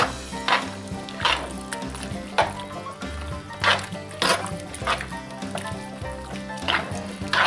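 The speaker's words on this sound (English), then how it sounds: "And let's give this a stir." Three bean moose chili with kidney beans and ground meat stirred in a Dutch oven, repeated scraping and sloshing strokes of a spoon against the pot in a loose rhythm, close up.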